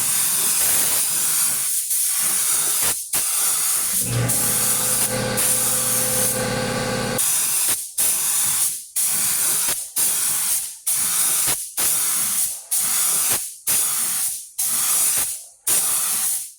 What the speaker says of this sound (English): Now I'm going to do the first coat of clear.